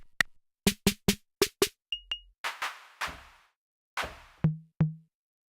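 A drum machine core kit plays separate dry hits one after another: clicks, rim and tom-like pings, noisy snare and cymbal bursts, close and alone.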